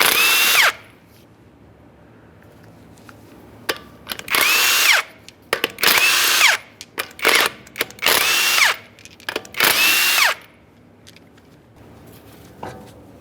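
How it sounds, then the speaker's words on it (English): An impact power tool spins off 19mm lug nuts from a Ford Fusion wheel in a series of loud, close bursts of about a second each, with short quiet gaps between them. "continue on to removing all 5 of your 19mm lug nuts"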